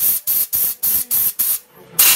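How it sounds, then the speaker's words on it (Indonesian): Cleaner sprayed onto Yamaha Jupiter Z motorcycle engine parts in six quick, loud, evenly spaced hissing bursts, a short pause, then a seventh burst, close up with no talking. "Kita akan melakukan penyemprotan."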